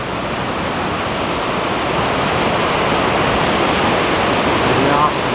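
Shoshone Falls on the Snake River roars steadily as a dense, unbroken wash of falling water, loud and close, holding an even level throughout with no pauses.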